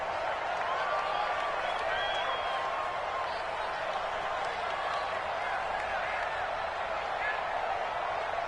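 Home stadium crowd in a PS4 football video game cheering after a last-second game-winning field goal, a steady roar of cheers and applause under louder commentary.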